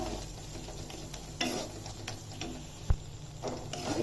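Spices and tomato are stirred in a frying pan, giving a steady close sizzle with scraping strokes and a few sharp clicks of the spoon against the pan.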